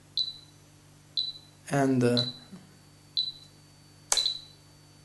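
Spektrum DX7 radio transmitter emitting short, sharp electronic beeps at a steady one-second rhythm as its timer starts, close and clear, with someone briefly speaking in the middle.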